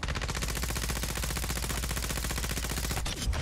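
Rapid automatic gunfire from an ISO 45 in a video game, a dense, steady stream of shots lasting several seconds, loud and close, with a brief break and a final burst near the end.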